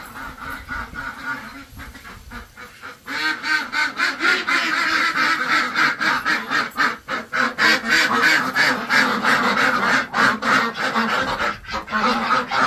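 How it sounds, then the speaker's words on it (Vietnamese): A flock of corn-fed ducks quacks close by in a rapid, overlapping chorus, loud and continuous, after a few quieter seconds at the start. "Vịt này là vịt ăn ngô hạt đấy."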